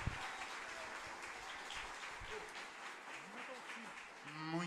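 Applause from a church conference audience fills the hall steadily for several seconds at moderate level, with a few voices and a brief spoken phrase rising near the end.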